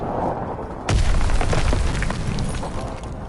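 A German ammo supply blowing up in Call of Duty WW2: a sudden heavy boom bursts in over background game noise, then rumbles and crackles as debris settles.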